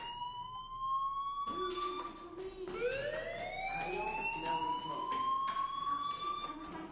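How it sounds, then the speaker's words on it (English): A wailing siren-type fire alarm sweeps up and down in rising tones, loud and continuous, with a brief break before it resumes and climbs again. "do you hear that fire alarm?"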